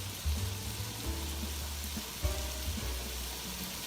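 A one-pot meal mixture heats in a pot with soft, steady sizzling and crackling. Low thumps of stirring come through now and then, with no voices.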